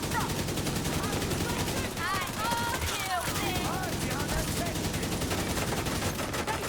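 Dense rapid gunfire from a video game shooter, loud and continuous bursts under game effects, with a voice speaking over parts of it.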